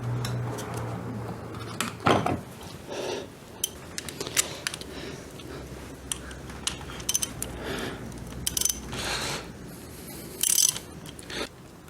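A ratchet wrench clicks in short, scattered bursts during an oil change on a Suzuki V-Strom motorcycle, with faint metallic tool handling in a quiet space.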